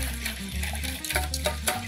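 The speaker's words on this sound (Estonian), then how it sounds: "Kõigepealt paneme kaerapiima potti, natuke maisitärklist ja vispeldame ta niimoodi sulatamise sisse ära." Oat milk and cornstarch being whisked in a pot: a steady swishing, stirring scrape that runs continuously and sits close up with no speech.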